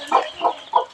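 Chickens kept under a cover cluck close by, three short throaty calls spaced evenly over about a second with no other sound.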